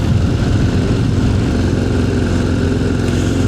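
Harley-Davidson Low Rider ST motorcycle rolls down a steep 16% gradient, its engine giving a loud, steady low rumble with constant wind and road noise and no talk.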